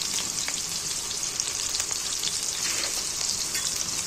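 Potatoes frying in oil with a continuous crackling sizzle, close and fairly loud, with faint stirring scrapes now and then and no voices.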